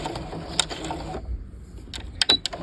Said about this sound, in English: So I'm going to choose to back stitch.